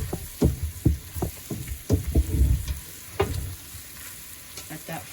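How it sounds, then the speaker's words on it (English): Chicken fries in curry powder in a Guyanese-style curry while a spoon stirs it, irregular scraping clacks against the pot over a steady close sizzle, with no talking. "let it continue to fry with that curry like that"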